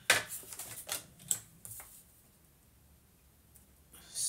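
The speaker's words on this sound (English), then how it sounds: "I think I'm going to have to trim this down just a smidgen" Paper being trimmed for a scrapbook mini album page, a few quick crisp snips and rustles close by in a quiet room, then near silence before another brief rustle.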